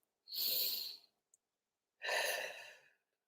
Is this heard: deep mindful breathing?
yes